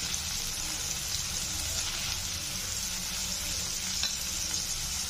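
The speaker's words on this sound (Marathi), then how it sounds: "शेपू घालून झाला व्यवस्थित मिक्स करायचं।" Dill leaves being stirred in a frying pan for pithla, a steady soft sizzle with gentle scraping of the spoon throughout, close and continuous with no talk.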